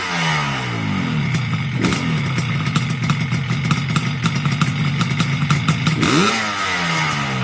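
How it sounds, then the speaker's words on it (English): A Yamaha RD 350 two-stroke motorcycle with recent performance work idles with a busy, crackling ring-a-ding, revving briefly twice with quick rising and falling pitch, loud and close throughout. "For someone looking for a classic Yamaha with serious two-stroke personality and recent performance work, this RD 350 offers plenty of excitement."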